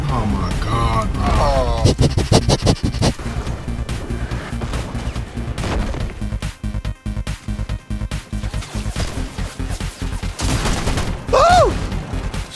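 Gunfire from a Fortnite match, with loud close shotgun-like blasts bunched in the first few seconds, then sustained gunfire and crashing game action alongside a voice calling out.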